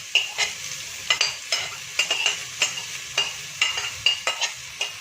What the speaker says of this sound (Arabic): البصل اهو على معلقتين زيت